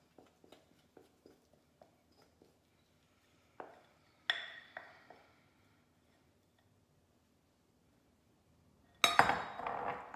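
Loose, floppy no-knead bread dough being moved into a clean bowl: a string of light clinks and taps, a few sharper knocks of utensil on bowl, then a louder scraping burst at the end, close by with no talking.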